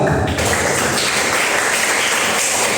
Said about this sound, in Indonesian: Terima kasih tepuk tangan untuk Bapak.